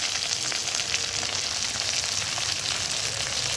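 Mint, coriander leaves, green chillies, cinnamon and cloves fry in oil for a pudina chicken, making a loud, even sizzle and hiss that runs steadily from start to finish.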